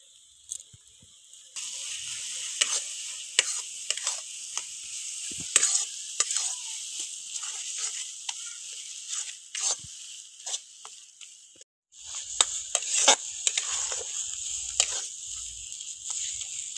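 A coconut and poppy seed paste fries in a pan while being stirred, a continuous close sizzle dotted with frequent sharp spatters and scraping strokes, with a short break near the end before the frying resumes.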